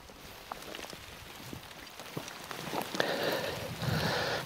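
Heavy rain falls on an allotment, a steady close patter of drops that grows louder and denser toward the end, with no talking.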